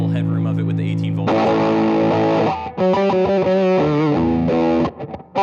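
Electric guitar through a Walrus Audio Eons Five State Fuzz pedal at 18 volts, ringing sustained fuzzed chords and then choppier note runs, loud and saturated with no talking over it.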